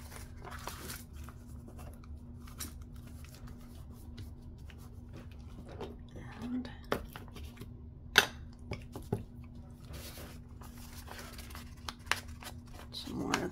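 Scissors cut paper for a junk journal zine, giving faint, scattered snips and a few sharper clips amid quiet handling, with a person speaking now and then.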